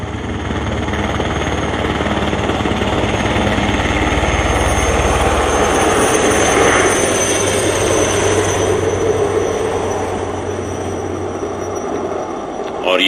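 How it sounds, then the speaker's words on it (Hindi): An Indian Army helicopter showering flowers over a Republic Day parade in Jammu, a loud, steady engine-and-rotor drone with a low rumble easing partway through, under a public-address announcer's voice. "हेलीकॉप्टर द्वारा, भारतीय सेना के हेलीकॉप्टर द्वारा पुष्प वर्षा"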